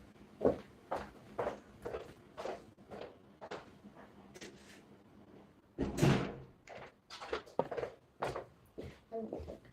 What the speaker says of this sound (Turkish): ben bir kapıyı kapatayım Batuhan.